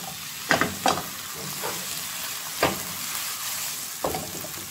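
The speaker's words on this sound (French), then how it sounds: "Je vais laisser les oignons revenir." Onions fry in a pan with a steady, close sizzle, broken by a few scraping stirs.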